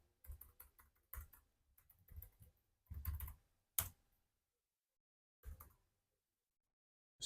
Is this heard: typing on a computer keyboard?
yes